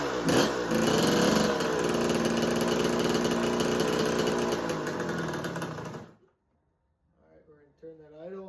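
Kawasaki KX125 dirt bike with a no-start, no-spark fault, its two-stroke engine running at idle with a loud, close, buzzing drone for about six seconds before cutting out, followed by a person talking briefly.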